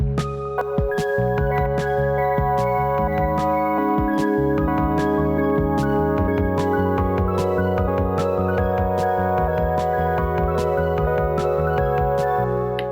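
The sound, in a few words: OP-1 tape track melody with fourth harmony at 133% speed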